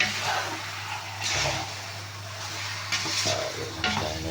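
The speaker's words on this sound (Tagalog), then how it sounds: "Ngayon natin halo yung bagong alamang." Fresh shrimp paste (alamang) being stirred in a cooking pan for pork binagoongan, a steady sizzle with scraping spoon strokes over a low background hum, several louder stirring bursts.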